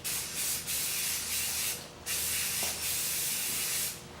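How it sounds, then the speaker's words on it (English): Oil sprays onto a motorcycle air filter in several hissing bursts of about half a second to a second each, separated by short pauses, close up with no talking. "Spray it on."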